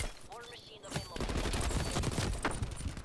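AK47 gunfire from the video game Black Ops Cold War crackles in rapid bursts of sharp shots, with a voice talking quietly at the start.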